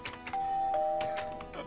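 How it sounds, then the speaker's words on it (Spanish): A doorbell in the Hello Neighbor Minecraft game rings with a clear two-tone chime, close and moderately loud over faint background noise. "Voy a tocar el timbre."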